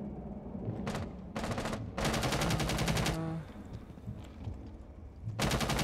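Gunfire in the tactical shooter Rainbow Six Siege rattles out in rapid automatic bursts: a short burst, a longer one, a sustained stretch of fire, then a final burst after a pause, all loud and with no talking.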